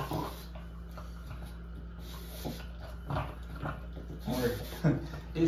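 A dog whimpers and whines softly over a steady background hum, while people talk and coo nearby.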